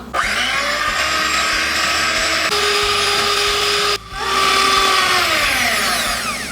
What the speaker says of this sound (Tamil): 1 கப்பு விப்பிங் க்ரீம் சேர்த்ததுக்கப்புறம் இப்போ நம்ம நல்லா பீட் பண்ணிக்கலாம்.